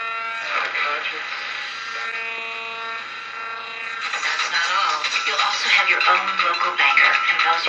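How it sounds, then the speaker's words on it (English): A Philco 90 radio tuned between stations gives off a steady buzzing hum with layered tones, then a louder, rougher motorboating burble takes over toward the end. "now we get some weird kind of motor boating humming between stations"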